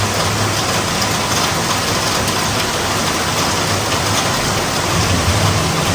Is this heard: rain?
yes